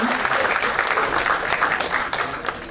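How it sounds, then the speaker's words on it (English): A burst of applause from a crowd, steady clapping that carries on for a couple of seconds before thinning slightly at the end. "So big applause for Mr. Jain Kulkarni"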